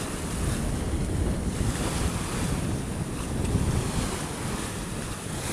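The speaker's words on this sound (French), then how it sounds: "Il y a des beaux trains de houle." Sea swell rolling past the sailboat Tabasco under a genoa during a cruise off Corsica from Figari to Ajaccio: a continuous wash of waves and water rush mixed with heavy wind buffeting the microphone, steady and close throughout.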